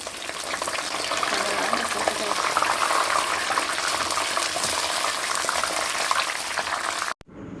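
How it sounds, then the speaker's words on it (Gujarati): Chillies crackle and sizzle loudly in hot oil, a steady bubbling roar that stops abruptly just before the end. "હવે મરચાં તળી લઈએ"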